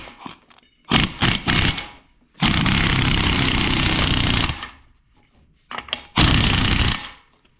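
A power tool tightens the pinion nut on a Toyota Supra differential, with loud close bursts of rapid impact hammering: a few short stutters, one long sustained run and two more bursts.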